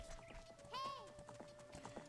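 Horses in Zelda: Ocarina of Time clop softly on the ground in a light, quick rhythm, with a brief whinny partway through and a steady background tone.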